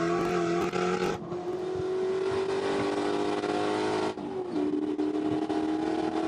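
A Spec Corvette race car engine from onboard as it climbs a hill on track, loud and close, revving hard with a sustained roar, dropping abruptly at each gear shift and then pulling up again.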